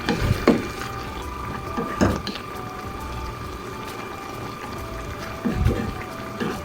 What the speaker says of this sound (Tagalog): magdadagdag lang ako ng 1 cup of water para naman may sabaw yung ating ginisang saluyot